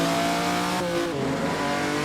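A 1948 Ferrari race car in Assetto Corsa at the postwar Prix de Berne, engine droning loudly, then the revs drop sharply partway through, with possible tire noise under the engine, heard alone.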